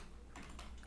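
Keystrokes on a computer keyboard as an Angular CLI command is entered, a short burst of close, crisp taps in quick succession over faint room hum.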